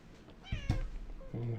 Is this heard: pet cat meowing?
yes